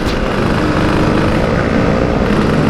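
A Yamaha RX-King two-stroke motorcycle engine revs at high RPM during a ride around Bogor, a loud, steady, buzzing drone that holds throughout without pause.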